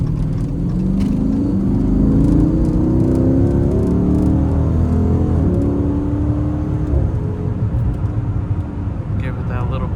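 Chrysler 392 engine in a Dodge Ram rumbling and pulling as it accelerates on a neighborhood drive, a steady low growl with rising pitch, under a person talking.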